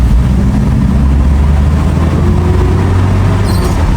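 A Toyota HiAce Siyaya minibus taxi with almost a million kilometres accelerating through the gears, loud steady engine drone heard from inside the cab, pitch rising and shifting as it pulls away.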